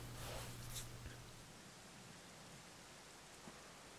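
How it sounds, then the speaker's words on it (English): Steady rain in the Dragon Quest XI S game, a soft even wash of falling drops with a faint low tone fading early, quiet and continuous throughout. "it was raining like this the last time I ever saw her"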